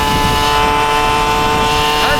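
A Motobécane moped's small engine runs at a steady, loud drone with a thin, buzzing harmonic whine that holds level throughout.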